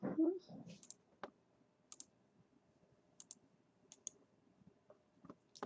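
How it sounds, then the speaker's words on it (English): Sharp computer mouse clicks, right-clicks on a design program, come sparsely and singly at close range, each brief and crisp, after a short murmur of voice at the start. "You right click on one of the components"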